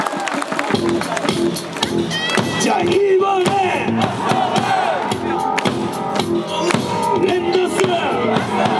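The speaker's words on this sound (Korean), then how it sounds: "우리 안상현 선수에게도 응원의 박수 부탁드리겠습니다." Baseball stadium crowd during an SSG Landers game, loud and continuous throughout with cheering, rhythmic clapping and chanting, while an announcer and other voices speak over the din.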